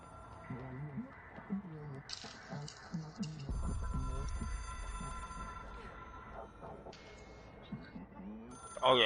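In the video game Control, an otherworldly telephone rings in short repeated bursts through a low droning hum, faint and a little distant, while someone talks over it.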